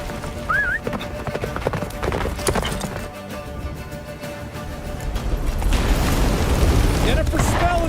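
In The Witcher 3: Wild Hunt, a horse gallops during a blizzard in the final chapter. Rapid hoofbeats clatter under a character's spoken voice and a whinny, and a roaring rush of wind and snow swells toward the end.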